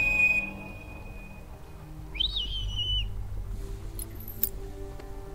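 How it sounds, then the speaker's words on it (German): A bird whistle in The Whispered World 2 is blown once, a single rising-and-falling whistled note of about a second, clear and close against a quiet ambient backdrop. "Dann ist das Janus Vogelpfeife"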